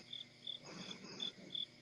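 Crickets chirp at night near a porch in an evenly spaced, pulsing rhythm of about five bursts, faint and steady over a soft background hum.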